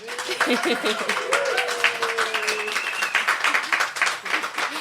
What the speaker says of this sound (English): Yeah, it's nice, that loud applause.